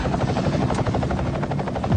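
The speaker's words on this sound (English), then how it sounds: "The chopper." A helicopter thumps nearby with rapid, steady rotor beats and a loud engine drone, filling the scene without voices.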